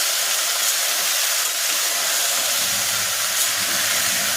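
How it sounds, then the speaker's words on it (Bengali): Dried red chillies dropped into hot oil for tempering produce a loud, continuous, even hiss and sizzle close by, with no voices. "লঙ্কা ফোড়ন দিতে ভুলে গেছিলাম লঙ্কাটাও দিয়ে দিলাম"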